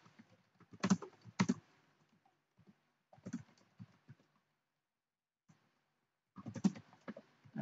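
Keys clack on a computer keyboard as Git commands are entered, in quiet separate bursts of rapid typing with pauses between them, close and fairly soft.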